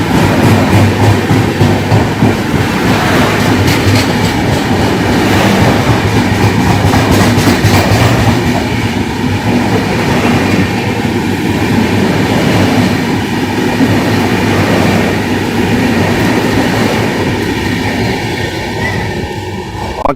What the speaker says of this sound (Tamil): மும்பையிலிருந்து எர்ணாகுளம் வரைக்கும் போற எக்ஸ்பிரஸ் இது.